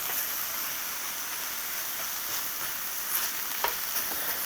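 Ground turkey fries in a pan on medium-high heat while it is broken up, giving a steady close sizzle with scattered crackles and light scraping stirs.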